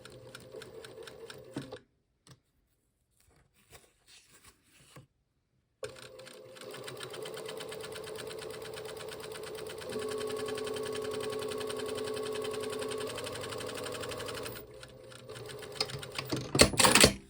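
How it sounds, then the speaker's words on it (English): A sewing machine runs in steady bursts while stitching two layers of fabric along the side of a French seam. Short starts give way to one long, even run of stitching, with brief pauses and a final quick burst. "you're also catching both layers of the fabric as you stitch along down the side"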